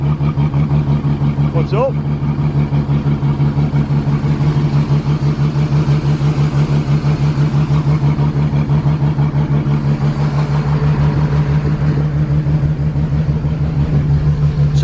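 A car engine idles close by with a loud, steady low hum and a constant throb throughout, while a person briefly speaks over it.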